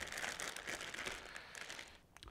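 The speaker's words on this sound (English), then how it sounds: "open your bag nice and carefully, pop them onto a nice oven tray" A plastic bag of potatoes being opened with scissors in a kitchen, giving close, quiet crinkling and rustling for about two seconds before stopping, followed by a couple of faint clicks.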